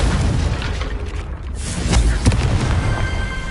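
A Confringo fire spell bursts in Hogwarts Legacy: a loud, deep booming explosion rolls out, followed by crackling pops and a second sharp blast, with no talk.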